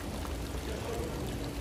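Hot natural mineral spring water at a spa in Karlovy Vary, Czech Republic, pours into a cup as a brief, steady, gushing stream heard up close.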